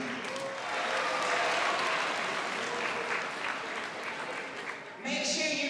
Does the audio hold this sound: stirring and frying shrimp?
no